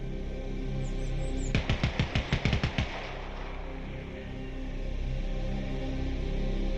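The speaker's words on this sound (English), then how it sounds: "the sounds of gunshots and artillery only got louder." A rapid burst of about ten gunshots from a war video game with Russian forces closing in, loud and close, followed by a low rumbling battlefield ambience with no further shots.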